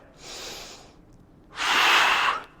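Two breath sounds during a core exercise: a softer inhale followed by a longer, louder forceful exhale, close and breathy with no talking.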